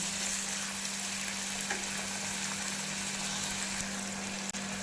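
Onions fry until golden brown for a white chickpea curry, producing an even, close sizzle with no talk and a faint steady hum underneath.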